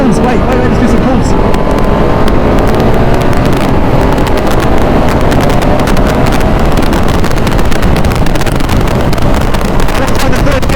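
A KTM 690 SMC R or Ducati Mono 698 single-cylinder motorcycle roars hard and loud the whole way through, with strong wind buffeting the microphone and a rider's voice mixed in.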